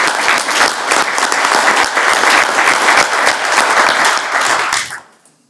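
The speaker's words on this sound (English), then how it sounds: "give all of our street department and stormwater crews a good round of applause" Audience at a city council meeting applauds the street department and stormwater crews, a steady, dense round of clapping that holds for about five seconds before quickly fading out.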